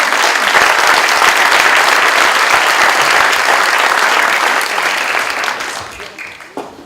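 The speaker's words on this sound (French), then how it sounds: "On peut d'ailleurs les applaudir." A crowd at a mayor's 2018 New Year address claps loudly and steadily for several seconds before the applause tapers off and fades out at the end.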